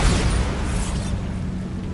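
A Bombarda spell explosion in Hogwarts Legacy goes off as a loud, close, booming burst that decays into a rumbling wash over two seconds, with no voices.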